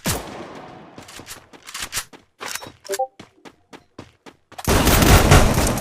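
Rapid bursts of gunfire from a competitive mobile shooter game match ring out in quick succession, sharp cracks spaced irregularly, ending in a sustained loud barrage of dense automatic fire.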